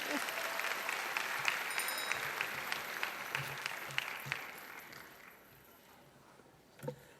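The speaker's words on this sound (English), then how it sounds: "give them another round of applause" Audience applause fills a hall at a national veterans' auxiliary convention session, a dense wash of clapping that gradually thins and fades out near the end, followed by a brief thump.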